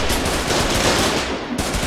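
Sustained automatic gunfire in the war game Foxhole, a dense continuous burst of rapid shots filling the whole stretch with little pause, loud and close.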